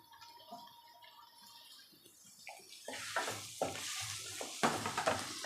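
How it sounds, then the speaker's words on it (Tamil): Chopped tomatoes go into a pan of onions and potato masala base and are stirred and sautéed, giving a steady sizzle with scraping stir strokes that grows louder after the first few seconds, with no talking. "இப்போ இந்த ஸ்டேஜில் நம்ம கட் பண்ணி வச்சுருக்க இந்த தக்காளியை ஆட் பண்ணிப்போம்"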